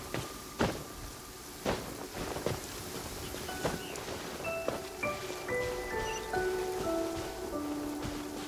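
Rain pattering in the video game Genshin Impact, a soft steady shower with scattered sharper drops and clicks, joined by a rising sequence of bright chime tones near the end.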